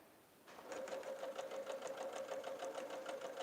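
A sewing machine starts up after a moment of quiet and runs in a quick, steady stitching rhythm, seaming silver and white quilt fabric pieces, fairly faint and without speech.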